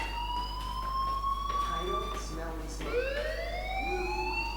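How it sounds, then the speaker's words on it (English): A wailing electronic fire alarm in the video game Life Is Strange rises and falls steadily over a constant low hum, loud and continuous throughout. "Hey, do you hear that fire alarm?"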